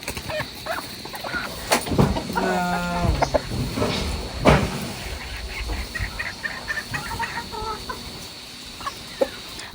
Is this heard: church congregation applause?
no